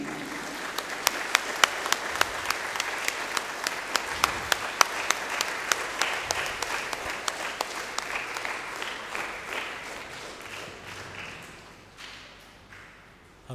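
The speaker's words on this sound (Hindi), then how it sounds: "हम सभी ताली बजाएंगे" A church congregation at a Confirmation service claps to welcome the bishop, a dense, steady round of applause with sharp individual claps standing out, fading gradually toward the end.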